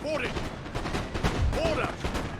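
Cannon fire with canister shot in Napoleon: Total War, a Great Britain coalition campaign battle, with repeated booming blasts and crackling gunfire close by in dense bursts.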